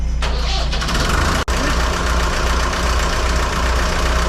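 A Fordson Major diesel tractor engine, just back from engine repair, turns over and fires into a steady, loud, close running rumble with a brief dropout partway through, with no voices.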